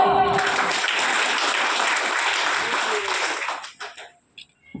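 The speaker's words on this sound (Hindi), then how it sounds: "अरे अपने लिए ताली बजाई दियो" Audience at a Sant Ravidas Jayanti gathering claps in a steady wash of applause that holds for several seconds, then thins and fades to scattered claps and near silence.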